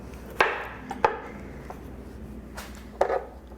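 Knife chopping plum tomatoes on a board, a few sharp separate cuts spaced unevenly, close and fairly clear with no talking.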